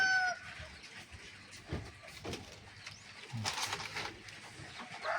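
A wet chicken clucks a few times outdoors after rain, with other birds and light rustling around it, moderately close and not very loud.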